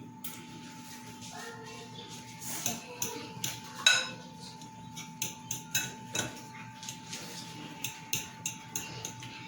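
Chocolate donut batter mixed in a bowl, with a run of irregular clinking and tapping from the utensil against the bowl that comes thicker toward the end, close and fairly quiet.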